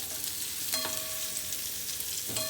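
Paneer pieces frying in a pan of oil, a steady close broadband sizzle with a couple of brief clinks as the pieces are turned, no voices.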